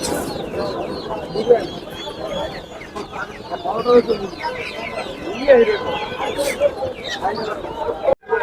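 Chickens, including native hill breed birds, cluck in short bursts among other poultry at the busy Tongi bird and poultry market, with people talking nearby throughout.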